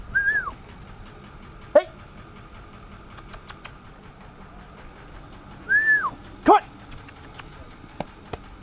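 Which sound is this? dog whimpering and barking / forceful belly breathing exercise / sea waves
dog whimpering and barking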